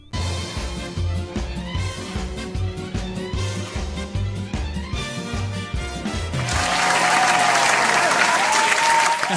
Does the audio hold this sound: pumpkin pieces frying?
no